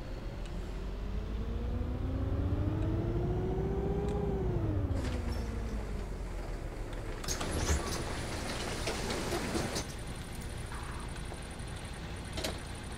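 Bus engine idling and humming in Bus Simulator 18 inside a bus garage, a steady low drone with a pitch that rises and falls, later joined by clattering mechanical noises.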